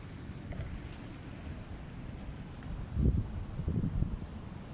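A steady low rush of a strong river current, with wind buffeting the microphone and a brief louder surge near the end, in St-Lin, Laurentides, Quebec.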